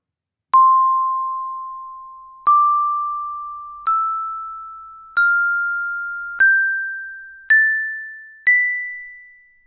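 Seven separate xylophone notes ring out one after another from a Flutter app as buttons are tapped. Each clear bell-like tone is a little higher than the one before and fades slowly before the next.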